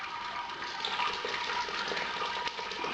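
Water trickling slowly through the grain basket of an all-in-one brewing system during a sparge, a steady close hiss of running water that stays continuous with no talk.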